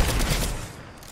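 Rapid gunfire in Fortnite Chapter 3 Arena Duos, a dense burst of shots at close range that starts loud and tapers off over about a second, with no talking.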